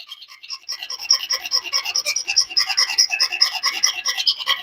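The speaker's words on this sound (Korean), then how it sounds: "예, 이런 식으로 계속해서 긁어내시면 됩니다." A knife blade scrapes and whittles the rounded end of a handmade self-standing fishing float, giving a steady close, raspy scratching that quickens and grows denser as the float is turned, with no talk over it.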